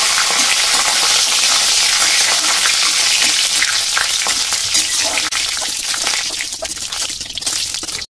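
Bay leaf, panch phoron and dried red chili crackle and fry in hot oil, a loud, steady sizzle with scattered pops and some stirring scrapes, no voices.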